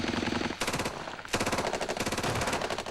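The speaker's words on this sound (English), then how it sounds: "Then the barrage begins." British mortars fire a night barrage on Iraqi positions near Basra, heard as rapid bursts of loud, rhythmic gunfire broken by two short pauses, with no talk over it.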